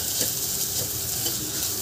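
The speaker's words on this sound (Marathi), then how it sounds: "या भाज्यासुद्धा आपल्याला मोठ्या गॅसवर थोडंसं फ्राय करून घ्यायचं आहे 2 मिनटं" Vegetables frying on high flame for ragi soup, a steady close, loud sizzle with faint stirring and no break.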